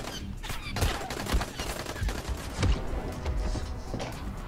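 Mounted turret gun firing in Dying Light, a rapid, loud, continuous burst of heavy gunshots with a rhythmic thudding beat, close and sustained throughout.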